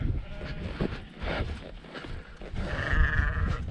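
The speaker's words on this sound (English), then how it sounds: "We have a hobbling sheep." A lame sheep bleats a few times nearby in a field on the Wales Coast Path, hoarse calls rising over rustling ground noise, with faint movement sounds in between.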